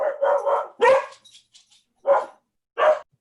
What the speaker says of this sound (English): What dog is that?